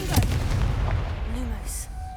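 A Confringo blasting spell in a Harry Potter-style video game bursts with a loud booming impact, a dense explosive rumble that carries on for about two seconds before fading into a brief bright shimmer.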